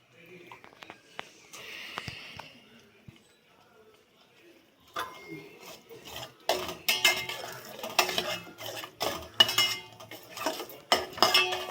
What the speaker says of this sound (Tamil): நல்லா அப்படியே கிண்டிகிட்டே இருக்கலாம். கொஞ்சம் வதங்கட்டும்.